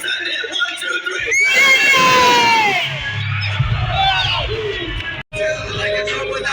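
A big crowd lets out a loud, sustained scream with whoops and shouts rising together, then fades after a few seconds into music.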